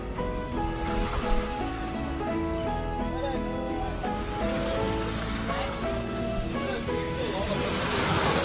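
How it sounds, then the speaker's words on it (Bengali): Sea waves on the shore at Mousuni Island wash in a continuous loud roar of surf, heard close by with no pauses and no talking. "এই রকম সমুদ্রের আওয়াজ শুনে ঘুম থেকে এই প্রথম উঠলাম"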